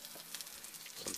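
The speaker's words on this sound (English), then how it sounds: "Chopped up an onion, fry some rice" Rice and chopped onion fry together in a pan with a soft, steady sizzle that stays faint and even across a brief moment, with no talking over it.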